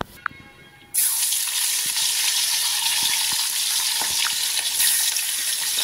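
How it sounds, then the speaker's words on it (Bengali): Pabda fish fry in a pan with a loud, dense, continuous hiss of hot oil that starts abruptly and holds steady, close up, with faint clicks underneath. "আর এই লাস্ট ব্যাচ পাবদা মাছগুলো খুব নরম হয় না, ওই জন্য না ভাজতে প্রচুর সময় লাগে"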